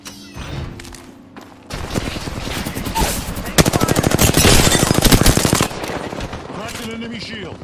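Bursts of automatic weapon fire in the Apex Legends battle game, rapid rattling volleys that build into a dense, loud stretch of sustained shooting before easing off, with voices calling out in between.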